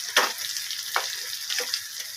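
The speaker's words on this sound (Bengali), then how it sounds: "আর একটু পেঁয়াজটা ভাজা ভাজা হবে।" Onions fry in ghee in a pan for a white paneer biryani, giving a soft steady sizzle broken by a few sharp spatters and stirring scrapes, quiet and close with no talk.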